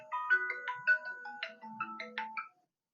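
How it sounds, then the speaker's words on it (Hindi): A mobile phone ringtone plays a short, bright electronic melody of quick notes for about two and a half seconds, then stops abruptly into silence. "देखिए भैया फोन आ जा रहा है"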